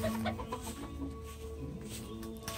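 Chickens cluck softly in a yard with roosters, short low calls repeating at a distance under a steady outdoor background hum.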